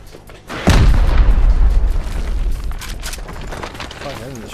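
A video game base raid erupts with one sudden loud rocket blast, its deep rumble rolling for a couple of seconds before fading into lighter crackles and background game noise.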